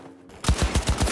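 An assault rifle in Cyberpunk 2077: Phantom Liberty opens up after a short pause, firing a rapid, loud burst of about eight evenly spaced shots.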